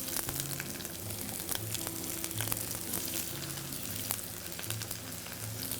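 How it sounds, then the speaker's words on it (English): Peppers frying in a hot pan, a soft continuous sizzle and crackle with scattered pops and light stirring clatter, fairly quiet and close, with no voices. "This pan right here is hot for me to add my veggies, so let's do that."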